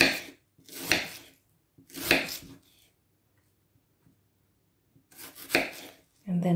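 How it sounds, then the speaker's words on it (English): A knife chops an onion on a cutting board in a home kitchen: three or four quick, crisp bursts of cutting, a pause, then another burst, close and fairly quiet, with no talk. "it's okay just to take bits off and just cut it individually"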